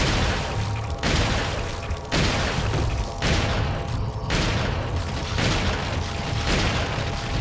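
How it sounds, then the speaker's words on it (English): Shotgun blasts in the video game Resident Evil 4, heavy booming shots repeating roughly every second, loud and dense with a rough, noisy texture and no talking. "Now shotgun him like crazy."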